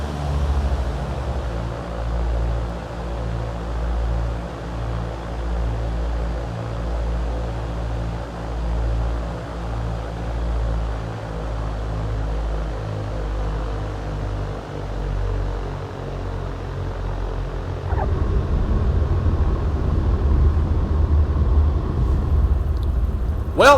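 Aircraft engine rumble on final approach and touchdown in the X-Plane 11 flight simulator, a steady low drone that swells louder and rougher near the end as the plane lands, with no talk.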